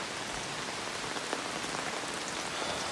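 Steady rain falls on surfaces around a house, a dense, even patter with no pauses, fairly close and with no voices.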